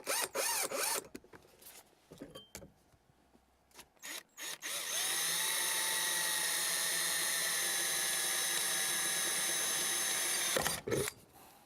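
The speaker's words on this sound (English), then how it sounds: "We want to drill it and attach it to the console." A power drill bores holes to mount a car shifter to the console, first in short stop-start bursts, then one long steady whine for several seconds before stopping, with clicks and handling noises around it.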